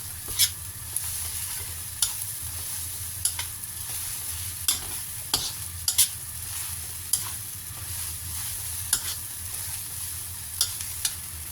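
Mama instant noodles are stir-fried in a pan under a steady low sizzle, with a spatula scraping and clacking against the pan in regular strokes about once a second, close to the mic.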